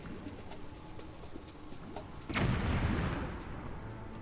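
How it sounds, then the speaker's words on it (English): A thrown bomb explodes against an enemy near a volcano in The Legend of Zelda: Skyward Sword, one sudden booming blast that rolls out and fades over a steady background of rhythmic game music. "I also wonder what happens if I throw a bomb at this guy."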